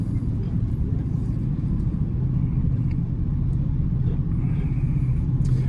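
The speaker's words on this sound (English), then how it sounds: "Now we're driving this S10 pickup truck" An old 2001 Chevy S10 pickup truck drives along, its engine and road noise forming a steady, low, close rumble from inside the cab with no talking.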